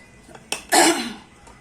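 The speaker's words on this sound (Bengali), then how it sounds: "কাশি বন্ধ হচ্ছে না।" A person with a cold gives a single close, harsh cough, preceded by a small click, in a quiet room.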